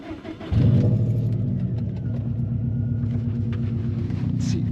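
A straight-piped Subaru WRX engine starts up and settles into a loud, steady idle with a deep, pulsing exhaust rumble that runs unbroken to the end.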